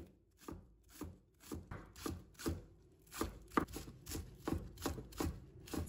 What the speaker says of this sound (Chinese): 再准备一把小葱，把它切成葱花。